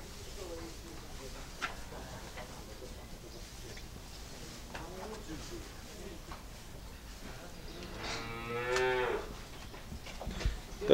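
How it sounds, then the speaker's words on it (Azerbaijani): Simmental calves with white eyelashes are heard in a barn setting; one clear moo rises near the end over low background noise and faint voices. "Qəşək buzovlardır"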